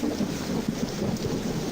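Low rumbling thunder rolls under steady heavy rain during a storm, a short continuous grumble without voices.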